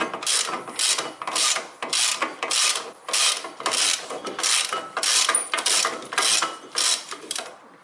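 A ratchet wrench clicks rapidly in steady, repeated bursts while loosening a bolt on a car's brakes, close and loud with no talking.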